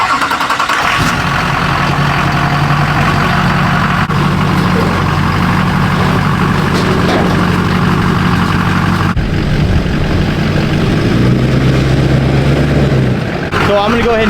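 A 20-year-old restored Duramax diesel truck engine runs loud and close with a steady low rumble, and the tone shifts near the end. Someone talks over it.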